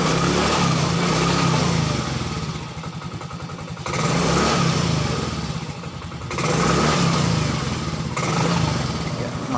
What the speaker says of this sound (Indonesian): Kemudian kita start, mesin masih bisa menyala